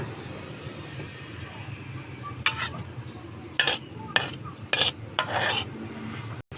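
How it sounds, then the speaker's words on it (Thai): Garlic frying golden in a little oil in a pan, a soft continuous sizzle under a low kitchen hum, broken by several sharp scrapes and clinks of a utensil stirring against the metal pan. "นำกระเทียมลงไปเจียวให้เหลืองหอมเลยค่ะ"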